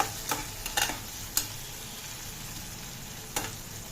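Drumstick leaves crackle in hot oil, a low sizzle punctuated by a few sharp spitting pops, fairly quiet and without speech.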